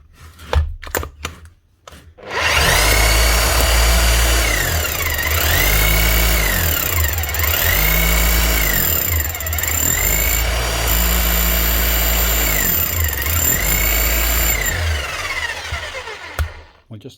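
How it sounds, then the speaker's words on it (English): An FF Group RH 7-40 Pro rotary hammer with a rebuilt clutch runs loud and steady for about fifteen seconds, a dense rapid pounding with its pitch dipping and rising, after a few knocks. "And just test the hammer here now. Make sure she's hitting alright."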